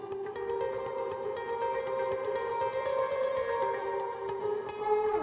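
An electric guitar played through a delay effect patch rings out in sustained notes with echoing repeats, a smooth continuous tone at moderate level with no voices.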